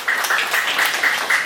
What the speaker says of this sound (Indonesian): Tepuk tangan buat Firman.